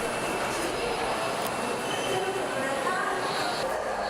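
A Donghae Line commuter electric train near Gijang and Ilgwang stations in Busan gives a steady, close rumble with a thin electric whine and faint wheel squeal running unbroken from start to finish, with possible murmured voices underneath.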